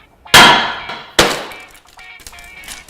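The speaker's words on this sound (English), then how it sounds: "makes it really easy to punch through the tempered glass of the side windows" A carbide-tipped emergency hammer strikes tempered car side window glass twice, each loud sharp crack followed by ringing, tinkling shards scattering and settling.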